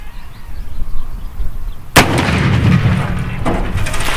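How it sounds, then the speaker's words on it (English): A .50 BMG rifle firing a Hornady A-Max round into a bowling ball outdoors: one sudden, very loud blast midway, followed by a rumbling echo and lingering roar, with a second faint report shortly after. "next up we got the Hornady Amax, and I don't think this ball has any cracks in it, so we'll see if it explodes any different or not"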